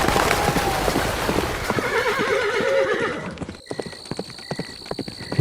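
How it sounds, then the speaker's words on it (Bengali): A white horse in a dramatic audio story gallops with rapid clip-clopping hoofbeats under a loud neigh. The hooves then turn into sparser, distinct beats against a quieter background. "খটখট খটখট খটাখট খটাখট করে আস্তে আস্তে আস্তে আস্তে পায়ের শব্দ যেন মিলিয়ে গেল"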